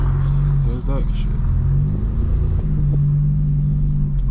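A straight-piped BMW M4 Competition with a 900 HP build rumbling low and steady while driving through a city, its engine drone continuous under road noise.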